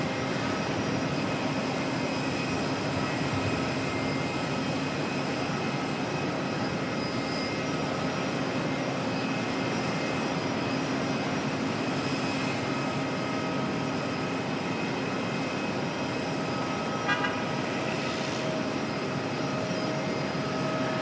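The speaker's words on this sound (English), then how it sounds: "Beautiful black liveried A320 domestic aircraft." An Airbus A320 in black livery at Auckland Airport gives a steady, loud jet engine roar that holds evenly throughout with no pauses, filling the whole stretch with broadband noise.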